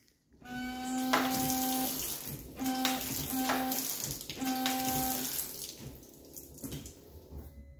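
Mercedes windscreen washer jets spray water in three close bursts, each a hissing rush carried by a steady pump whine, separated by short pauses before the spray fades.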